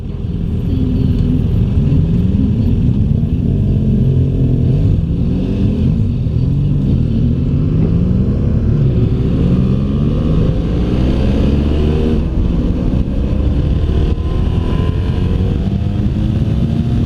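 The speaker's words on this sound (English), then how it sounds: "Good engine braking." A 2016 BMW F800GS motorcycle engine braking on the road, a steady droning engine whose pitch shifts as revs fall and rise, loud and continuous with wind rush and no talk.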